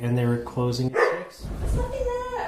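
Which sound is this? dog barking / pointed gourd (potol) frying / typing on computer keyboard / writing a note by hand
dog barking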